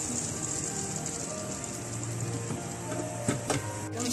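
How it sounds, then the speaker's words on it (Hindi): Chicken drumsticks fry in lightly heated oil in a wok, giving a steady, close, rain-like sizzle and crackle, with a few sharper pops near the end and no voices. "इस गर्म ऑयल के अंदर ये ड्रमस्टिक फ्राई कर लेंगे।"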